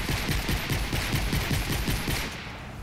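A rapid burst of automatic gunfire in Fortnite Save the World, loud and close with evenly spaced shots throughout, easing off slightly at the very end.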